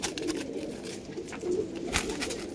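Andhra pigeons, all males of a yellow-eyed Sri Lanka ice line, coo softly in a loft, a low murmuring burble steady throughout with faint background noise.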